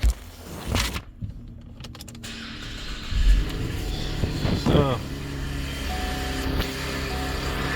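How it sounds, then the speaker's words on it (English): A 2012 Cadillac CTS engine cranks and catches partway through, then settles into a steady idle that continues to the end, with a person speaking briefly nearby. "Then we're gonna start up the car."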